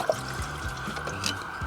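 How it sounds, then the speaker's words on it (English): Water poured into the windscreen washer bottle of a salvage Seat Ibiza, a soft steady trickle and glug of liquid filling a plastic reservoir, close and fairly quiet, with no talk. "Let me fill up the washer bottle here, the windscreen washer."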